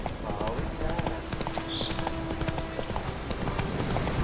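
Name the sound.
horse galloping hooves in video game The Witcher 3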